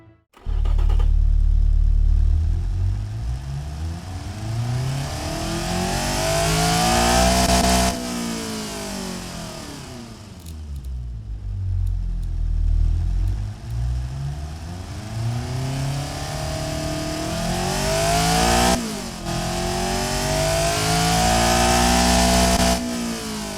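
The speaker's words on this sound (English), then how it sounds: "The engine sounds a little bit different in this game" A car engine in the video game Automation revs up and down repeatedly, rising to high-pitched whines then dropping back, loud and continuous with no voices.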